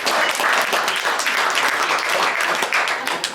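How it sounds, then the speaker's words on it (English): A short burst of dense audience applause inside the Crystal Palace Saloon in Ogallala, Nebraska, with many hands clapping steadily at close range. "Give them a big round of applause"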